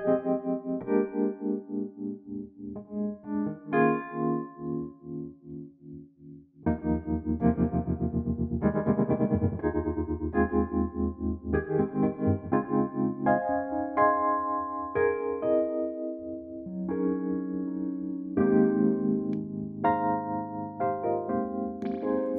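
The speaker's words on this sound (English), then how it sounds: "Let's check out this lovely, vibey, rich vibrato circuitry." Wurlitzer electric piano with its vibrato circuit engaged, playing mellow sustained chords and melodic lines with a wavering, pulsing tone, close and steady throughout with a brief pause before resuming.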